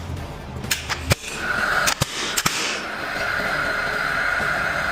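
A nail gun fires nails into a steel frame track during apartment construction, with several sharp, loud cracks in quick irregular succession followed by a steady background hiss.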